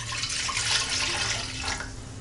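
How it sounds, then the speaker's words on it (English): A steady stream of hot water pours into a bread machine pan for pizza dough, a close continuous splashing rush that lasts throughout with no talk. "I'm going to get a cup of hot water into the bread machine"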